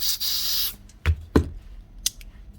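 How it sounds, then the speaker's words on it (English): A long hissing burst of contact cleaner from an aerosol can into a DeWalt DCN692 nail gun, followed by a few short clicks and brief spritzes, close up with no talking. "Give her a spray."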